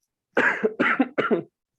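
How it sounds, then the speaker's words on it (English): Three harsh coughs in quick succession, close and fairly loud, with a short pause before each, then silence. "please forgive me, I'm just getting over a cough."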